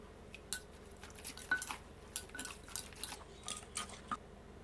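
Utensils clink and scrape against a mortar or bowl while Thai som tam papaya salad is stirred and mixed with noodles and other ingredients, a quiet series of light irregular taps and knocks, close by with no talk.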